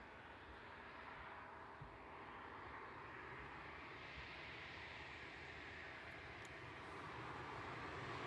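An 18-year-old aircraft, delivered in 2006, touches down at East Midlands Airport at night, a steady broadband engine roar sustained throughout and swelling slightly toward the end, heard from some distance with no talk.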